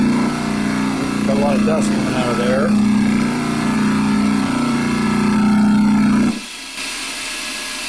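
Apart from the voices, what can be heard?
vintage repulsion induction motor switched on and running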